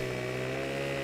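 Husqvarna chainsaw from the Farming Simulator 15 video game cutting logs, a steady buzzing engine drone held at constant pitch for about a second, with no talk.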